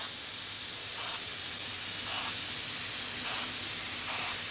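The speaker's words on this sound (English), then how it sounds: "Some eagle-eyed viewers might notice we're spraying a weird way." Spray gun laying Cerakote coating onto motorcycle parts in a horizontal fan pattern, a steady close hiss of atomized air running throughout with faint periodic swells as each pass sweeps across the part.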